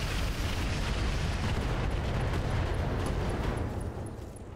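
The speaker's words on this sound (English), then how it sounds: "We're going to switch to all Artemis and fire." Artemis-guided missile weapons fire in a sustained salvo in the Roguetech mech combat game, a dense, loud roar of launches and blasts rolling continuously for several seconds before easing off slightly at the end.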